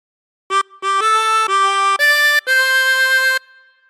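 Happy Birthday phrase played on a chromatic harmonica: six clear reedy notes in a steady sequence, each held briefly with short gaps, the last one sustained longest, loud and close with no voices.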